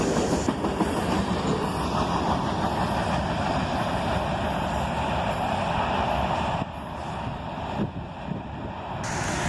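A long CSX freight train with fully loaded center beam cars at the rear rumbles steadily past up close at night, wheels clacking rhythmically over rail joints, loud and continuous with a slight drop near the end.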